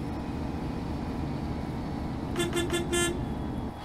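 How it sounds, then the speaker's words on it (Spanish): Horn of a Busscar Busstar S1 DD double-decker bus in a driving simulator: a few short honks in a quick series, loud over a steady engine and road drone. "Ese es el claxon que trae el buscar ese uno."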